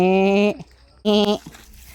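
A goat bleats twice, loud and close, each call a wavering nasal cry about half a second long with a short pause between.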